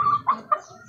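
Backyard chickens of a prized breed on a small Filipino farm give a few short clucks, two brief bursts standing out over a low murmur of farmyard noise.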